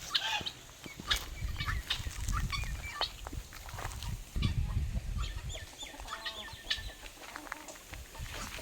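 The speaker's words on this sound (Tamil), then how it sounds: "கோழிலாம் வளர்க்குற ஷெட்டுங்க இது." Chickens in a farm shed cluck and squawk softly at a distance, scattered calls spread over a low rumbling background with intermittent knocks.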